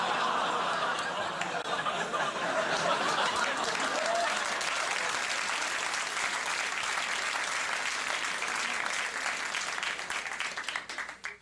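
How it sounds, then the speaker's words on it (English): A studio audience breaks into applause mixed with scattered laughs and chuckles, a dense steady clapping that thins and fades out at the end. "Gasps of horror and disapproval fading into polite applause"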